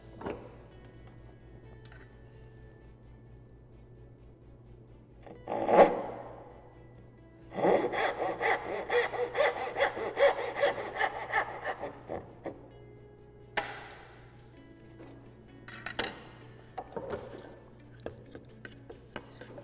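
A hand saw cuts the waste from the tails of a wooden dovetailed box: one short stroke, then a steady run of rasping back-and-forth strokes for several seconds, and a few more strokes after a pause. Close and fairly quiet, with no talking.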